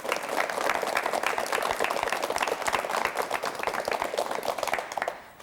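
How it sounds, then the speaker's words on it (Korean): A television studio audience on a 1985 talk show applauds to welcome an elderly guest. The clapping is brisk, dense and fairly close, running steadily before stopping abruptly at the end. "박수로 맞이해 주십시오."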